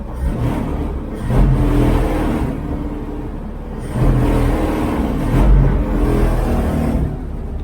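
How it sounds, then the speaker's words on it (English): A 1969 Chevy van driving with its exhaust rattling, a loud continuous engine drone that swells and eases as it revs, with a rough rattly texture throughout. "Yeah, maybe that exhaust is rattling too."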